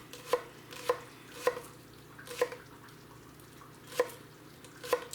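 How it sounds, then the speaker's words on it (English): A knife slices through a green onion on a cutting board for a chili garnish, six crisp, evenly spaced chops ringing out close and clear against a quiet kitchen hum. "So we got ourselves a green onion. And what we're going to do is we're going to slice this up."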